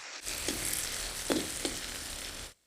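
Tomato paste sautéing in a pot: a steady, fairly quiet sizzle with a few soft stirring knocks, heard close and alone before stopping.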